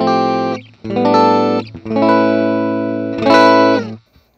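Distorted electric guitar in single-coil pickup mode, through a Joyo Gem Box III, plays sustained chords and notes in a few separate phrases, ringing loud and steady before cutting off.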